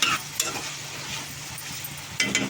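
Brinjal, potato and drumstick curry with turmeric stirred in a pan, a soft steady sizzle under light spatula scraping, with clinks of the utensil at the start and end.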